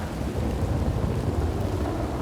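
Heavy thunder rumbles continuously over rain in a Red Dead Redemption 2 lightning storm, a loud, dense low roar with no voices.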